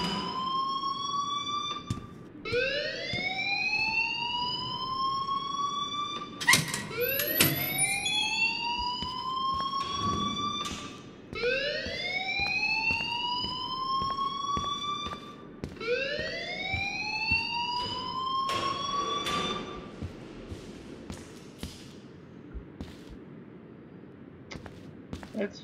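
A school fire alarm in the game Life Is Strange wails in repeated rising siren sweeps, several cycles with short gaps between them, loud and close, with occasional background clatter and voices.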